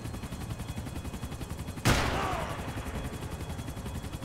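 A single sharp gunshot cracks out at close range in the Max Payne 3 video game, ringing with a brief decaying tail over a constant bed of in-game noise.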